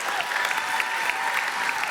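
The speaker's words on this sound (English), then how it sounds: "please give our Miss Virginia volunteer contestants another round of applause" Audience applause rings out for Miss Virginia Volunteer pageant contestants on finals night, a steady dense wash of clapping from a large crowd, sustained and even throughout.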